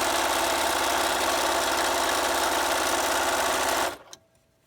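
A sewing machine runs in one fast, continuous burst stitching layered cotton fabric for a pleated face mask, then stops abruptly with a short mechanical clunk.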